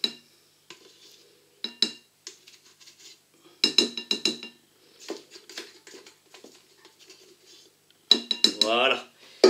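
A whisk or spoon knocks and scrapes against a bowl in irregular bursts as cream is blended into a praline and salted-butter caramel bavarois mousse, with short quiet gaps between the sharp metallic clinks.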